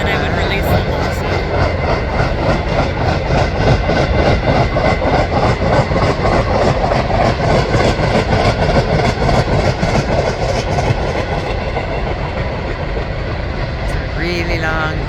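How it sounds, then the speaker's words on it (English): A very long freight train rolls past on the rails with a steady, loud rumble and rhythmic wheel clatter that continues for the full stretch and eases slightly near the end, alongside a little talk. "Really long train, and they don't have cabooses anymore"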